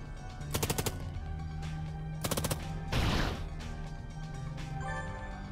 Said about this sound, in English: let's shoot the other wing